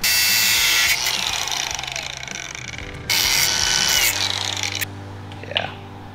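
A power tool grinds and whines through metal, cutting the ends off truck parts, in two loud sustained passes with a short pause between and a lower hum running underneath.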